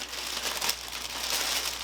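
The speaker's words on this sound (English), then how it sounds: "It comes in a big plastic bag." Continuous crinkling of a plastic bag, steady and close, with rustling texture throughout and no voices.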